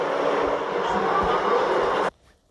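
A Z train subway car rumbles loudly and steadily along the track between stations, a dense roaring rush that cuts off abruptly near the end and leaves quiet.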